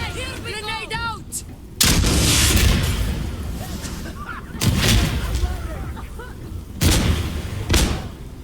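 Loud gunfire and heavy grenade blasts in the shooter game Insurgency Sandstorm, with three big booming explosions over sustained rifle fire and shouted voices.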